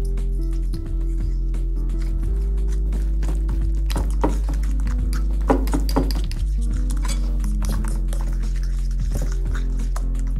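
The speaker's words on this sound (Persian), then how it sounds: "اجازه بدیم با چنگال هم بزنم" A fork stirs a seasoned batter of salt, pepper and thyme in a bowl, giving a steady run of light clinks and scrapes, close and clear over a low hum with no talk.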